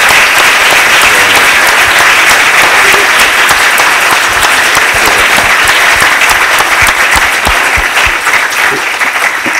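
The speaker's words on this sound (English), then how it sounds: "I think we owe our guests a round of applause." Sustained audience applause in a conference hall, dense and loud, with many hands clapping evenly throughout and easing slightly near the end.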